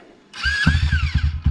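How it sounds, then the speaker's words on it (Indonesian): A KTM 390 Adventure motorcycle engine starts: a brief high starter whine, then the single-cylinder engine catches and settles into a quick, close, throbbing idle pulse, with no talking. "Start the engine."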